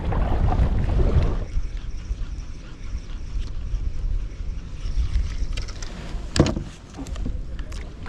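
Strong gusting wind buffets a fishing kayak out on open water, a loud, steady roar of wind noise that swells and eases throughout, with one sharp knock partway through and a little faint speech.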